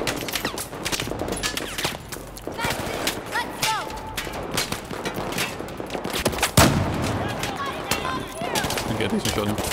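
Battlefield 4 gunfire during a Singapore mission: dense bursts of rifle and machine-gun shots crackle continuously, with sharp cracks and occasional louder blasts over a noisy battlefield din.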